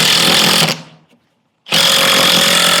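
A power driver sinking a screw into a wooden soffit block, a loud buzzing whir that stops abruptly, then after a short pause starts up again at full strength.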